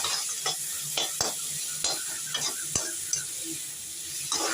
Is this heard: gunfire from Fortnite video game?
no